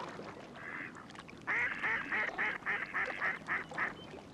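Wild ducks in a marsh quack in a rapid series of nasal calls, faint at first and then louder and closer in a rhythmic run of about a dozen quacks.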